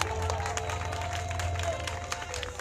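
A church congregation applauds and cheers together, with steady dense clapping and voices, while music with a low sustained tone plays underneath.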